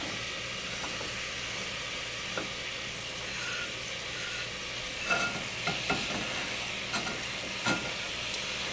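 Gram flour being stirred into spice-coated vegetables in a pan for Sindhi kadhi, a steady sizzle running underneath with scattered scraping clicks of the spoon that cluster toward the end, no talking.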